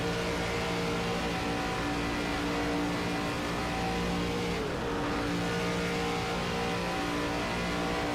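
An ARCA stock car in the iRacing simulator at Daytona Speedway drones at a steady high engine pitch, then the tone dips sharply as the driver comes off the throttle before settling back into a loud, continuous roar.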